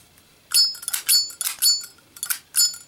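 A Zippo lighter lid snapping open repeatedly, each flip giving a bright ringing clink, five or so in steady succession, close and crisp.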